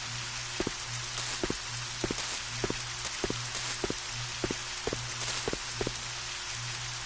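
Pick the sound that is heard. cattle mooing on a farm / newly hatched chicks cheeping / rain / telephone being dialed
rain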